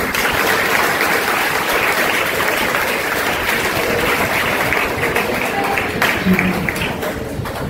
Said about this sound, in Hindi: आप खुद के लिए एक बार एक जोर से तालियां बजाएं